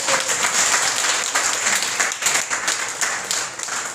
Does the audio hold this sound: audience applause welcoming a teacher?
yes